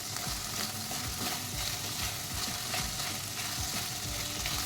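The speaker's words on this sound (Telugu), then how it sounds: "పన్నీర్ని కూడా ఫ్లేమ్ని లోలో పెట్టేసుకొని ఫ్రై చేసుకోవాలండి" Paneer pieces fry in a pan over a low flame with a close, steady sizzle and crackle, while soft spatula stirring and scraping clicks repeat throughout, with no voices.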